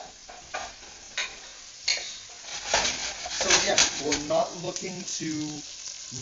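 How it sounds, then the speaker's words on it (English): Oil sizzles steadily with a soft crackle as onions fry for butternut squash soup, heard under a person talking throughout, with occasional light stirring scrapes. "Our onions have just started sizzling"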